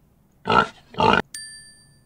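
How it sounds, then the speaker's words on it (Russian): A children's animal toy plays a pig's grunts, two short oinks followed by a brief electronic chime, clear and close in quiet surroundings. "Покажи свинку. У нее смешной хвостик крючок."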